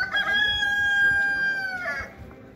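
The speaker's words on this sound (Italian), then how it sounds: "Il mercato delle galline" A rooster crows loudly and close at a poultry market in Asmara, Eritrea, one long sustained cock-a-doodle-doo lasting about two seconds before tailing off, with faint clucking of chickens around it.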